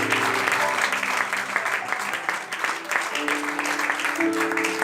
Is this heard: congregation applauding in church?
yes